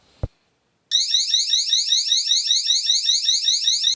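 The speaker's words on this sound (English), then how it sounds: "this is what the alarm would sound like if you get one of these" A home water leak detector alarm sounds close and loud after a brief click, a rapid, continuous warbling electronic beep that keeps going without pause.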